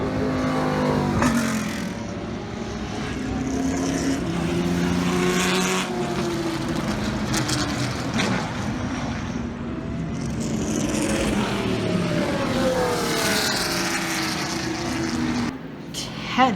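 A Lola LMP2 endurance race car at a speed festival roars past, its engine note rising and falling through gear changes with sweeping pitch shifts, loud and close, a voice talking underneath.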